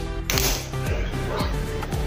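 A gas stove burner is being lit, with a series of sharp, evenly spaced igniter clicks, about four in two seconds, close by and with no speech.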